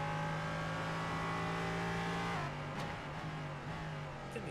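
A race car engine in a sim racing game at Imola drones with a steady high-pitched tone, then shifts down and changes pitch partway through, joined by faint tire noise. The car sounds close and continuous, with no voices.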